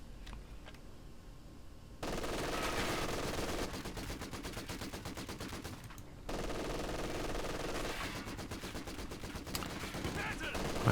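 Vickers and MG42 machine guns firing in the World War II strategy game Company of Heroes 2: long, steady rattling bursts at mid distance, pausing briefly and then resuming, with a voice speaking faintly under the fire.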